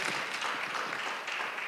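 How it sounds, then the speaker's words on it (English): An audience applauding a panel at a health expo and diabetes conference, a brief steady wash of clapping from a crowd, moderately loud and continuous. "Give our panel a round of applause."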